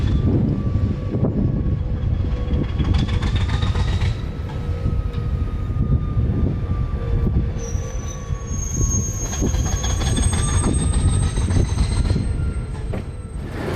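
An old Alco diesel locomotive rumbles steadily along the track with a heavy low drone, wheels squealing in long high-pitched whines throughout.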